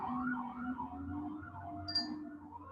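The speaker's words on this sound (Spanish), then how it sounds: "Se escucha como una ambulancia lejos." An ambulance siren wails outside in a slow rising and falling pattern, faint and somewhat distant, with a brief high chirp partway through.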